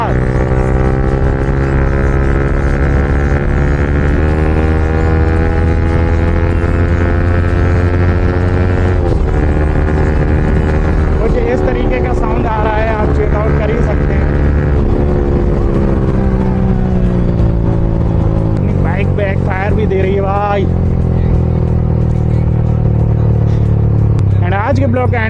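Yamaha R15 V4 motorcycle fitted with an Akrapovic full-system exhaust, revving and pulling through the gears: a steady, rich droning engine note that rises and shifts several times, continuous and loud throughout.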